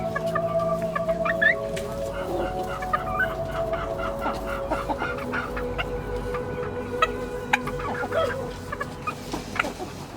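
A broody hen with newly hatched chicks, in a farmyard with other fowl. She gives soft, repeated clucks alongside thin, high chick peeps and scattered bird calls, moderately close and ongoing with no talking.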